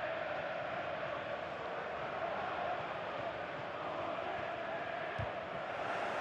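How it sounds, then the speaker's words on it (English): Stadium crowd noise in FC 24 during a Netherlands versus Turkey Euro 2024 match, a constant broad roar with rising encouragement, steady and moderately loud with no clear individual voices. "The crowd encouraging him to take it on."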